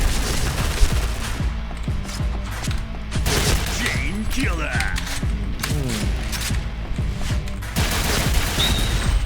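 Shotgun blasts ring out during a match of the online shooter Point Blank, with repeated booming shots and mechanical game effects over busy background sounds.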